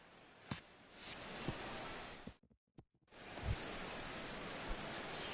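Steady rain hissing down over a baseball stadium during a game, a broad continuous wash with a few brief louder taps, briefly cutting out midway before resuming.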